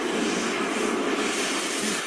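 A small jet engine on a radio-controlled model plane runs with a loud, steady roar and a thin high whine, constant throughout without variation or speech.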